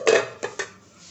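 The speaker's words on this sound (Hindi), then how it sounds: "अब हम इसको 1 घंटे के लिए कवर करके रख देंगे।" A bowl of marinated chicken tikka is covered, giving a close clatter of dish contact followed by two lighter taps, then quiet.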